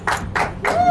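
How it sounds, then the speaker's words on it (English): Fans at a poker game clap and cheer for a player in three quick loud bursts, close by and with no talk. "Larger cheering section for Josh now."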